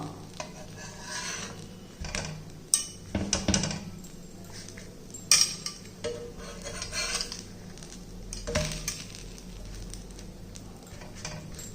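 Food being turned over in a pan while it cooks on medium heat, giving intermittent metal scrapes and clinks from a spatula against the pan, with soft cooking noise underneath and no talk.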